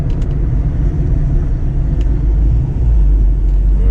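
Interior of a 2010 Kia Sportage driving on the road at about 25 mph, a steady low engine and road rumble dominating, with faint brief clicks and no speech.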